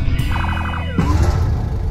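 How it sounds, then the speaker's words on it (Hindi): An ambulance siren in a zombie movie, with a fast warbling wail lasting about a second before it breaks off into a loud, busy mix of engine and street noise, no talking. "अब तभी उनके घर एम्बुलेंस आ जाती है जिसकी अंदर से जून के डेड बाहर आते हैं"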